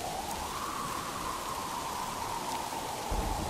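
Steady rain falls in a cartoon storm, a dense, even hiss that continues unbroken at moderate loudness throughout.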